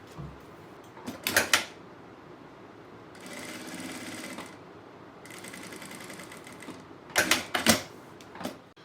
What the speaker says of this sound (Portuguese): deixo esse outro tecido esticadinho e vou costurar novamente